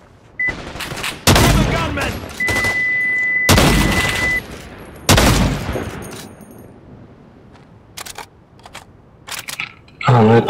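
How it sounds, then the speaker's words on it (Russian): Loud, sharp explosive blasts and bursts of gunfire crack out in succession as a barricade is blown up in the video game Caliber, with ringing tails and a few quieter clicks in between. "Кто-то взрывает дальнюю баррикаду."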